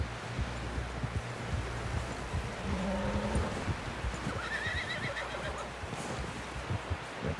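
A horse in Red Dead Redemption 2 whinnies and its hooves clop amid rustling outdoor ambience, the neigh rising briefly mid-scene at moderate distance.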